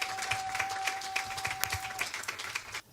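A church congregation claps and cheers in dense, continuous applause during a worship service, lively and close, fading out abruptly at the end.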